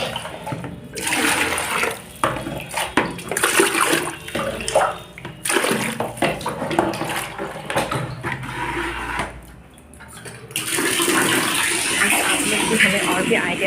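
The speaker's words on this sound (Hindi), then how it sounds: "तो अभी पानी भर रहा है" Tap water running into a container, a steady rushing splash that comes and goes, with people talking over it at times.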